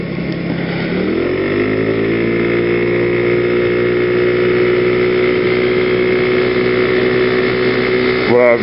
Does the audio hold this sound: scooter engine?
yes